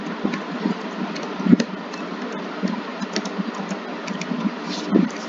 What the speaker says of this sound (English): You just type this